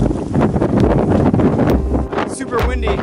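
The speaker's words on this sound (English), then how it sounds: "Super windy." Strong wind buffets the microphone on a winter hike at Sam's Point Preserve in New York, a loud continuous roar with gusty low rumbles, and a voice briefly heard.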